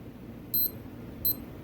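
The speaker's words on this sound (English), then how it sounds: "That sound, that beep beep, every time a new hour comes, you will hear that." A Casio W221H digital watch sounds its hourly signal, two short high electronic beeps a moment apart, close and clear over a faint room hiss.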